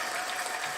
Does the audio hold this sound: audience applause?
yes